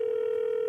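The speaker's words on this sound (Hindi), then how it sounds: "दूसरे कॉलर को फोन लगाते हैं" A steady, unbroken telephone dial tone sounds alone while a call is placed to a caller, holding at an even level throughout the short clip.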